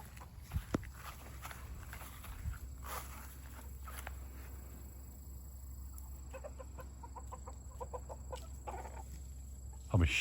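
Soft, scattered clucks from chickens, including an Australorp, and small rustling movements in a quiet farm coop, with a brief louder thump near the end.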